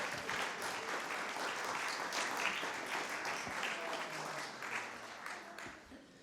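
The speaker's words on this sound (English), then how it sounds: "I just want you to applaud her" An audience at the Ethnic Heritage Council 2022 awards ceremony applauds, a thick, even wash of many hands clapping that holds steady and fades slightly at the end.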